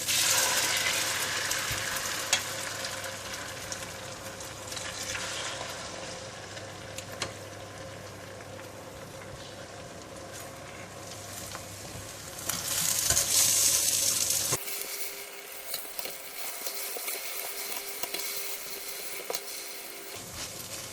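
An egg and bitter gourd omelette fries in hot oil, giving a steady close sizzle with occasional stirring scrapes that swell midway, then drops to a quieter crackle with no talk.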